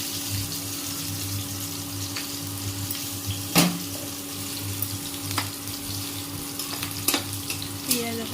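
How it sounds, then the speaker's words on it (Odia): Raw potatoes and spices fry in a pan in a home kitchen, giving a steady close sizzle with occasional sharp clinks and stirring knocks. "କଞ୍ଚା ଆଳୁ ଦେଇକି ମସଲା କଷିଦେଲି"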